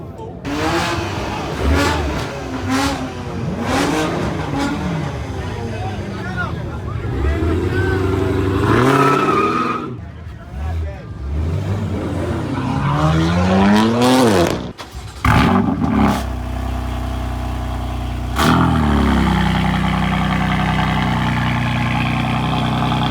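Engine of the Cannonball record car idling and revving in bursts, with rising and falling sweeps, under loud music and voices nearby.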